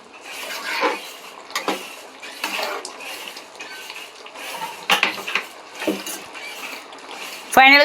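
Garam masala stirred into a bone (boti) and tomato curry in a pot: spoon scrapes and metallic clinks against the pan, irregular and close, with a faint wet simmer underneath.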